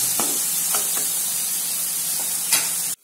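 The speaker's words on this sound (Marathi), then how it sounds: "आता आपले टोमॅटो व्यवस्थित शिजेपर्यंत याला कमी फ्लेमवरती आपण शिजवून घेऊया।" Tomatoes with salt simmering in a pan on a low flame for besan capsicum, giving a steady close sizzle throughout, broken by a few soft stirring scrapes of a spoon before cutting off abruptly at the end.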